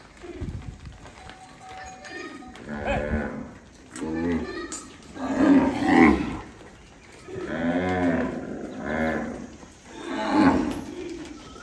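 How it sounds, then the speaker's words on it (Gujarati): Kankrej cows low in several long, loud moos, one after another, as the herd runs toward water, with people talking nearby. "જુઓ આ બાજુ ગાયો દોડી બધી, જુઓ પાણી માટે"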